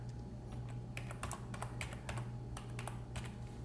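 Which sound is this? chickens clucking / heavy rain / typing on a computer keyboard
typing on a computer keyboard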